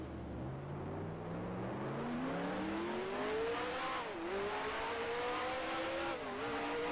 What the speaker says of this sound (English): I'm hearing another Brabham on the other side.